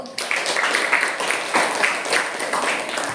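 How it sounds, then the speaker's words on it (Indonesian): Applause from a classroom group of students, a steady burst of clapping that fills the room at moderate loudness for a few seconds, with faint voices underneath. "Aplaus untuk kelompok 1"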